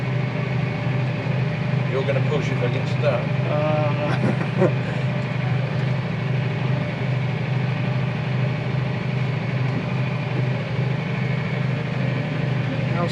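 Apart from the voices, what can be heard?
tractor engine idling in muddy field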